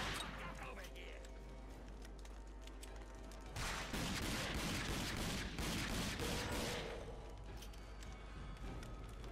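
Rapid bursts of gunfire in the video game RAGE rattle over a constant background hum, with a heavier sustained volley in the middle.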